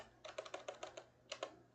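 Keys tapped on a computer keyboard while entering a command, a quick run of about seven crisp clicks, a short pause, then two more, close and clear with no talk.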